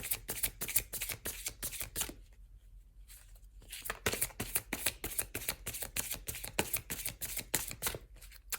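Tarot cards are shuffled in fast, crisp, rhythmic riffles close to the microphone, with a brief pause partway through before the steady flicking resumes.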